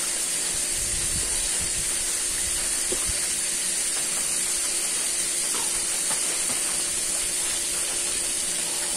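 Fried chicken pieces sizzle steadily in hot oil, a constant loud hiss with faint crackles and no talking.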